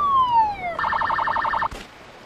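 Police car siren in the video game Emergency 4 with a São Paulo mod: a falling wail that switches to a rapid warbling yelp for about a second, then cuts off with a short thump.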